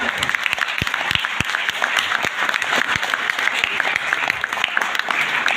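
Audience applause at a speech event: a loud, continuous burst of clapping from a room full of people, with sharp individual claps standing out against the dense patter and no voices over it.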